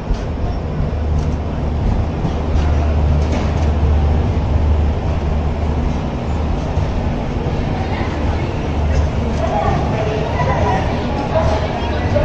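Humsafar Express train running: a steady low rumble and rattle of the moving train continues throughout at an even loudness, with no distinct horn or clatter standing out.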